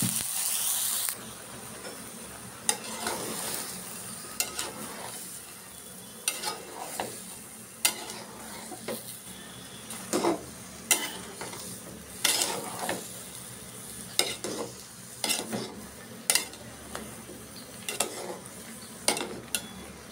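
Sponge gourd tipped into a pan of spices already frying, giving a steady low sizzle and hiss with repeated sharp stirring scrapes and clinks of a utensil against the pan, close and fairly quiet.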